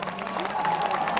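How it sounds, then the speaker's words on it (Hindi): Applause rises from the crowd at a Jaisalmer, Rajasthan song launch as the Border 2 film team is presented, a steady wash of clapping with a raised noisy tone. "आप सब के लिए जोरदार तालियां हो जाएं इनके लिए एक बार।"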